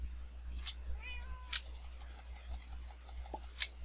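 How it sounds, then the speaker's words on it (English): A house cat meows and whines in a few short rising calls close by, mixed with light computer keyboard clicking and a steady low hum in a quiet room. "I think I might have the cat sit somewhere for a while because I'm tired of her whining in my ear."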